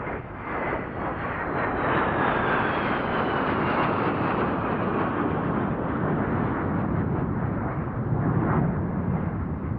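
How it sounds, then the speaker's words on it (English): Three Tornado jets from an air show display, one flown by Italy's Aeronautica Militare, roar past low at about 300 knots and 500 feet, a loud, continuous rushing engine thunder that swells and holds for the whole pass. "the three Tornadoes are running in once more"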